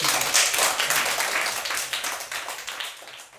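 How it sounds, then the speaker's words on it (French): Applause from an audience at a school back-to-term ceremony, a dense crackle of many hands clapping together, loud and close, holding steady before thinning slightly toward the end. "Applaudissez le Seigneur"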